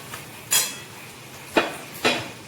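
Pieces of fried katla fish go into a pan of cooked spiced masala with three sharp metallic clinks of utensil against pan, spaced about a second apart, with quiet background in between.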